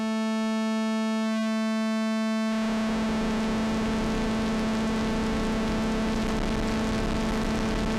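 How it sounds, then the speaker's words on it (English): Behringer 2600 synthesizer oscillator with its pulse width modulated by the noise generator: a steady buzzy tone first sounds clean, then a hiss of noise abruptly floods in and roughens it, continuing evenly to the end. "The pre-wire connection is using the noise generator to modulate the"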